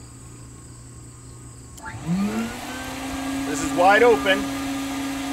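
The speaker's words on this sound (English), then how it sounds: "First thing I'm going to do is turn on the agitator, then I'm going to turn on the blower." An insulation blowing machine starts up, its agitator and blower spinning into a steady motor whine and hum that rises in pitch and holds, with a person speaking briefly over it.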